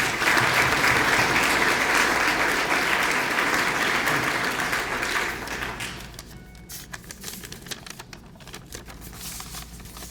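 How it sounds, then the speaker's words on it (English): An audience at a business awards event claps steadily for about five seconds, then the applause thins into scattered, fading claps while a quieter room murmur remains. "Let's give him a round of applause."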